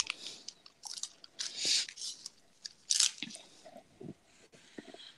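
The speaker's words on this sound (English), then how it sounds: "I might have to mute so you can't hear me crunching" Someone crunching a snack up close, with irregular bites and chewing bursts, crisp crackles and softer squishy chews separated by short pauses.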